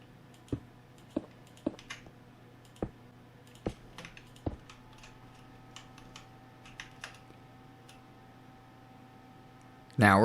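Computer keyboard typing during a Minecraft 1.16.3 building session: scattered, sharp key clicks in a short irregular burst, then sparser taps over a low steady hum, ending in a loud thump.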